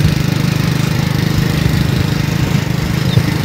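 A motorbike engine drones loud and steady while carrying riders past sugarcane fields on a village road, with a close, throbbing low rumble throughout and no speech.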